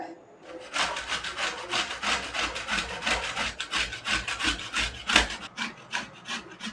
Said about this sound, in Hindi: अब इन आमों को हम कद्दूकस कर लेंगे।